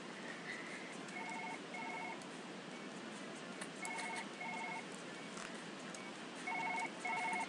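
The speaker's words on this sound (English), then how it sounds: "Phone's ringing." Telephone ringing in the reception area in the Surgeon Simulator 2013 video game: repeated paired electronic ring bursts in a steady rhythm, fairly clear over a hissy background, with no talking.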